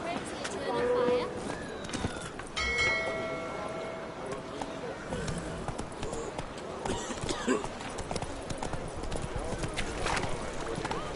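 Horse galloping in The Witcher 3, steady rapid clip-clop of hooves running throughout, mixed with game ambience and voices speaking over it.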